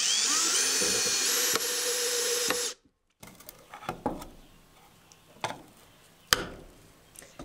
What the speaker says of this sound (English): Now I just need to screw all the sides in, which they've already pre-drilled all the holes.